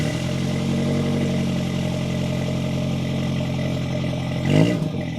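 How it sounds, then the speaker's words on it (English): Toyota 22R engine in a 1982 Toyota fitted with a Holley Sniper 2-barrel carb, running at a steady, smooth idle that is loud and close, with a brief rise in intensity near the end. "So now when you start the motor,"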